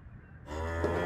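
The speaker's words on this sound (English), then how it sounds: "The cows are grazing." A single cow on a farm where cattle graze lets out one loud, close moo that swells in after a brief quiet start.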